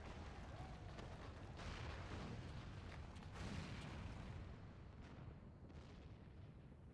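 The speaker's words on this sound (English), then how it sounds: "Must have been the cannon at Castrum Banya." Cannon fire and a collapsing tower at Castrum Banya in the video game Final Fantasy XIV, a sustained dense rumbling roar of distant booms and crumbling debris that gradually fades.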